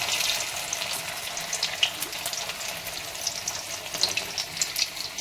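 Bora fritters fry in oil over a very low flame, giving a steady soft hiss and bubbling with faint crackles throughout.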